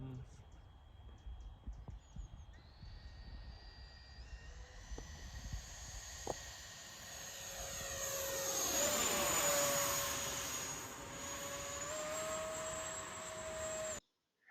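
A 70mm Freewing F-22 radio-controlled electric ducted-fan jet makes a low pass, its high whine rising and swelling as it approaches, peaking overhead with a Doppler pitch drop, then fading before cutting off abruptly.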